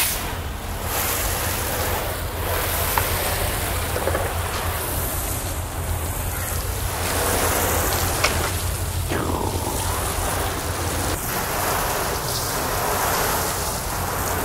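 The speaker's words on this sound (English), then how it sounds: "I'm going to go ahead and give it a final rinse, get all those soap suds off there" A water hose sprays a final rinse over a soapy car, a broad hissing splash that runs steadily throughout with small shifts in intensity as the stream moves across the body.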